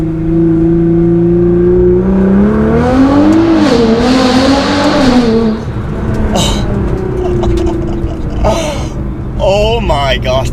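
A warmed-up Nissan GT-R R35 with Armytrix decat straight pipes revs hard in first gear, loud and close, its pitch sweeping up and down through several sharp climbs, with excited voices talking over the engine.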